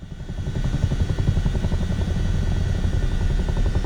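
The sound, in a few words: Chinook helicopter in Microsoft Flight Simulator video game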